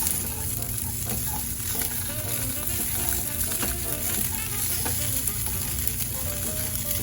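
A vegan taco filling with nutritional yeast is stirred while it fries, producing a continuous sizzle with scraping utensil strokes against the pan, fairly close and steady.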